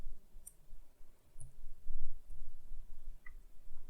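Faint, sparse mouse clicks during Excel work, a few sharp ticks spaced irregularly over a soft background hiss.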